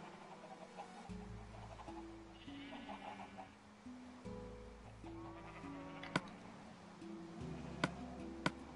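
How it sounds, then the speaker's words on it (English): Sheep bleat repeatedly in a PS4 farming game, the calls mixing with clucking chickens and other farm animals over a steady low background, while a few sharp clicks land near the end. "Let me go shear a sheep."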